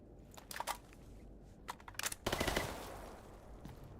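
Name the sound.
gunshots at the player in the video game STALKER: Gamma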